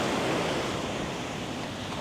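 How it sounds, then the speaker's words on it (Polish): Ocean waves breaking on a Sri Lankan shore, a continuous broad roar of surf with wind buffeting the microphone, loud and close, with no talk. "idę tutaj, bo tu widzę, że fale przebijają czasami"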